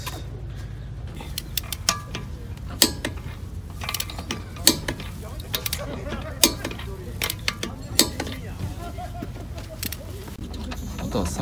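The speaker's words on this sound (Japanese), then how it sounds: "こうやってね、トルクレンチでちょっと締めていきます。" A torque wrench tightens a fitting on a car prepared for a circuit track day, giving repeated close, sharp ratcheting clicks over a steady low background hum.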